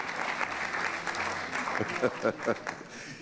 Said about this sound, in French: On applaudit Sandrine.